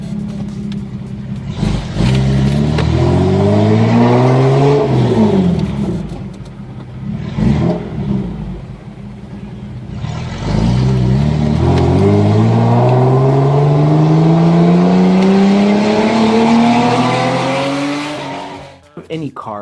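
A Toyota MR2 with a turbocharged V6 revs hard in several rising sweeps, loud and close, climbing through the gears with brief lifts between pulls and a long final acceleration. A voice is faintly heard beneath the engine.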